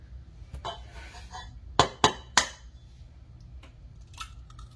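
An egg cracked into a mixing bowl: three sharp, close taps near the middle, spaced a fraction of a second apart, with faint shuffling and a softer tap before and after.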